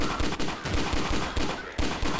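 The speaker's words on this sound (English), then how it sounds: "it's a semi-automatic fire weapon, but you can fire pretty damn quickly with it" The Junkman 2 semi-automatic weapon in Garry's Mod fires a rapid string of loud, close shots at a quick, slightly uneven rhythm, about ten in two seconds.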